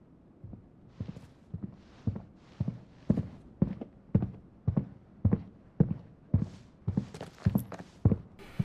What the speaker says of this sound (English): Some loud footsteps.